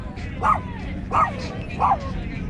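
A dog inside a DIY camper van gives three short, mid-pitched barks spaced evenly about three-quarters of a second apart, fairly close, over a low background rumble.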